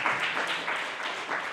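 Applause from a congregation at a church youth Sunday service, a steady, fairly close wash of clapping that holds evenly for the short stretch with no voices over it.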